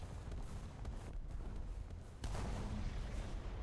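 Dull booming gunfire from armoured vehicles in the War Thunder tank battle game rumbles faintly through a continuous low roar of engines, with a heavier thump lifting the level partway through.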